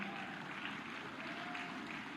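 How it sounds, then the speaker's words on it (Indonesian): Crowd applause for Al-Ustadz Suswono at a political declaration event in Jakarta, a steady, dense wash of clapping that holds at even loudness throughout, with no talk over it. "tepuk tangan untuk Al-Ustadz Suswono"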